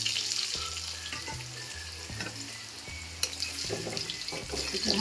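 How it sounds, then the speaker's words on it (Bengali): Cut potato pieces go into hot oil already flavoured with cumin and bay leaf, a close, steady sizzle with scraping stirs and one sharp clack, under faint background music. "সেই আলুগুলো তেলের মধ্যে আমি দিয়ে দিচ্ছি।"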